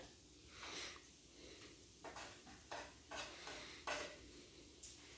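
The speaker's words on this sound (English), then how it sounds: "We're going to put in the chopped up meat, and we're going to give that a stir here in just a minute." Chopped meat, peppers, onions and mushrooms stirred in a skillet, with soft utensil scrapes and knocks at irregular intervals over a faint, steady sizzle, all fairly quiet.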